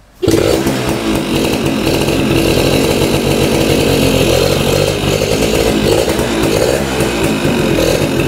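A Yamaha F1ZR two-stroke motorcycle engine starts up and keeps running, a loud, steady buzzing idle close by with no talking over it.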